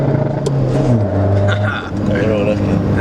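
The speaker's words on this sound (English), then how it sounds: "Did a Skoda make that sound?" A Skoda Fabia vRS with a stage 1 tune revs loudly nearby, its engine note rising and falling with a rough rasp, while people talk over it.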